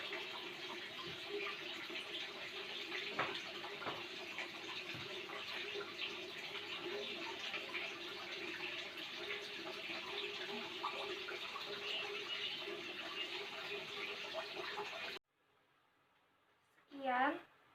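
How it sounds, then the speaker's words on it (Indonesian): Hands being washed under running tap water in a nurse's practice room, a steady close gush of water lasting several seconds, then stopping and giving way to a brief voice. "cuci tangan 6 langkah dengan air mengalir"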